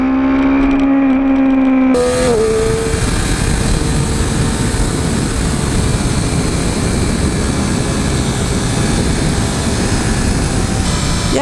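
A 2013 Triumph Daytona 675R motorcycle engine revs while riding, a loud close whine that shifts down after a gear change into a sustained roar mixed with heavy wind rush.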